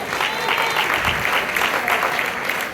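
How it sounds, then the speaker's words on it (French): A church congregation applauding, a thick continuous wash of many hands clapping at once, loud and sustained throughout, with a voice faintly audible within the crowd noise. "Applaudis le Seigneur pour la guérison qu'il nous accorde ce matin."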